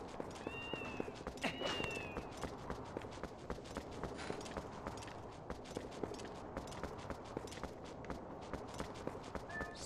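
Cat meows inside the video game Twilight Princess, a few short tonal calls early on amid busy game sound effects with clopping, footstep-like hits and a steady ambient bed.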